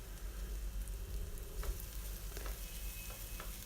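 Sambar powder and garam masala sautéing with capsicum in a pan for capsicum rice, giving a soft continuous sizzle with a few light stirring scrapes, close but fairly quiet.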